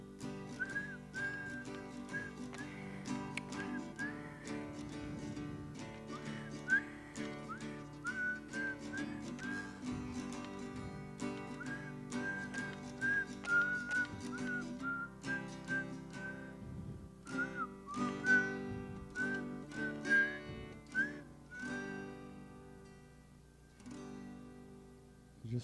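Several people whistle a tune together, a sustained melodic line over a full backing of sound, steady and fairly loud across the whole stretch with no talk.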